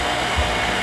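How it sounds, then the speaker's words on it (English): A Shopsmith woodworking machine runs loud and close, giving a dense, continuous whine-roar that stays steady for the whole short stretch, with no voices. "Here's how loud my shopsmith is."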